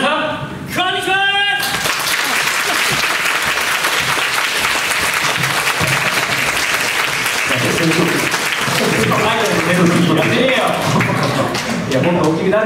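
Dense, loud applause and cheering from a concert audience at a live show at a bathhouse venue, sustained for several seconds after a brief spoken greeting, with some shouts rising near the end.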